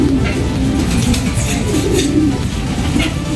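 Low, soft pigeon coos murmur continuously through a busy room, with faint higher chirps drifting in and out over steady background hum.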